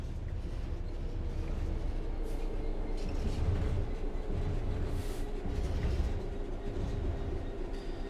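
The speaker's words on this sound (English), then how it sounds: "The train will then coast on level ground, and the train will only slow down very gradually." A train coasts on level track in Train Sim World 3, giving a steady low rolling rumble with faint rail clatter that continues without a break at moderate loudness.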